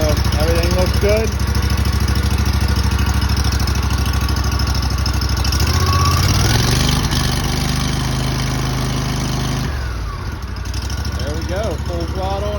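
Hustler Super Z zero-turn mower with a Vanguard replacement engine runs at full throttle, a loud, steady close-up drone that dips briefly near the end while a person talks over it.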